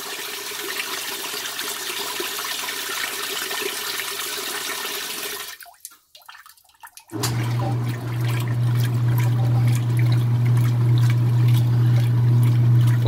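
2017 Speed Queen washing machine tub filling with water: a loud gushing rush that breaks off briefly, then resumes as a steady pouring flow with a low mechanical hum underneath.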